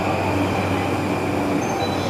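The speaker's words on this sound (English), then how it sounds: "The E259 series. This is the same exact train series as the Narita Express." An E259 series limited express train, the same series as the Narita Express, rolls into a station with a steady, loud rumble and hum of wheels on rails, heard close by without any talk.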